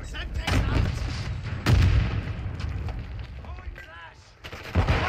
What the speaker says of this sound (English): The guns feel really good.